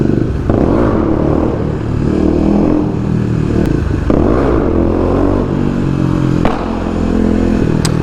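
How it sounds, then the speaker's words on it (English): A modified Kawasaki KLX250 dirt bike revs hard and loud, its engine rising and falling in repeated throttle bursts, with sharp popping backfires and some clattering rattle in between. "Yes, nice backfire."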